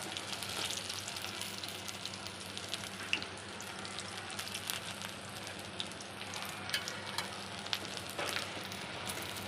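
Gunda sambharo sautés in a pan with a continuous soft sizzle and crackle, faint but steady, with occasional sharper pops and no voices.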